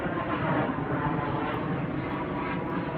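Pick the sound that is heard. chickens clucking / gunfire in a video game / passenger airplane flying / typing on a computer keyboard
passenger airplane flying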